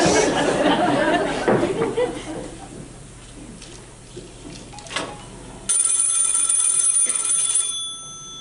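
A telephone rings onstage during a community theater stage play, a steady electronic trill entering partway through and continuing to the end, following a stretch of murmured voices and room noise.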